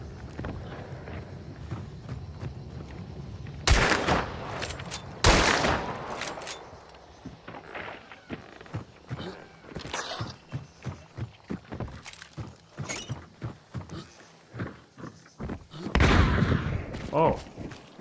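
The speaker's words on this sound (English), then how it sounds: "I don't know if it's an officer carbine or a regular, but he has an officer. Pretty fast fire right there." Rapid gunfire from an officer carbine in Hunt: Showdown, a few loud sharp shots spaced seconds apart among quieter clattering footsteps and movement, with a final heavy blast near the end; talk runs faintly alongside.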